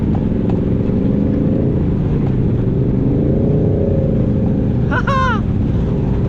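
A Kawasaki Hagibis motorcycle engine labours loudly up close while stuck near a deep canal ditch, droning and straining continuously with a shifting pitch, and a short shout breaks in near the end.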